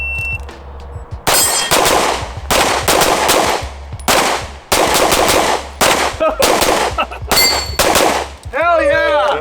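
Rapid gunfire rings out during a practical shooting match stage, loud close bursts of shots separated by brief pauses, each string ending with the ringing clang of steel targets, and a short spoken exclamation at the end.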